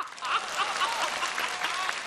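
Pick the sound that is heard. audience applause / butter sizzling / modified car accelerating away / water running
audience applause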